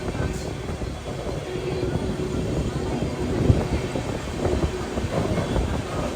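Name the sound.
Gujarat Mail train arriving at Vile Parle station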